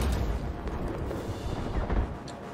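Grenade blast in a competitive tactical shooter tournament match, a dense sustained low rumble and rolling booms filling the whole moment, loud and close with no talk over it.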